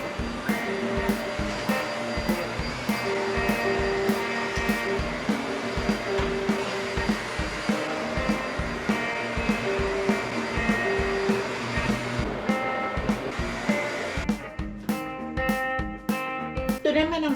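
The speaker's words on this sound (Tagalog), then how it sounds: "Kaya ibabacuum ko siya." A household vacuum cleaner runs over carpet at home, giving a continuous motor drone with rapid rhythmic bumps as it is pushed back and forth. It stays close and loud throughout, and its pitch shifts near the end.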